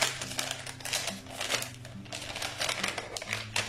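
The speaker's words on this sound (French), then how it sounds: "Il y a cette petite pochette mystérieuse que je vais ouvrir" A small mystery pouch is opened by hand, giving soft, close crinkling and rustling with light tapping clicks, faint and continuous over a quiet steady hum.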